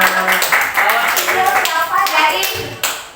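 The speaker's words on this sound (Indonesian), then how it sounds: "Tepuk tangan luar biasa." Schoolchildren in a classroom clap their hands in a quick rhythmic pattern of sharp, close claps with short pauses between bursts, while voices chant and speak over the clapping.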